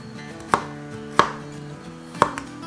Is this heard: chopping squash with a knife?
yes